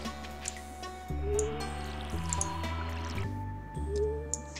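Soft splashing and dripping water sounds repeat over a steady, gentle background tune as crops are watered in Stardew Valley, like a watering can being emptied again and again.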